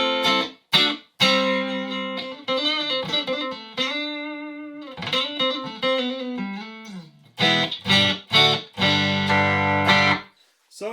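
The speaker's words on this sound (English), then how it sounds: "Switched for the Fender Twin, which sounds like this without any stomp box activated." A clean electric guitar plays through a Fender Twin amplifier with no stomp box engaged. Chords and single notes ring out in phrases with short pauses between them, sounding bright and close.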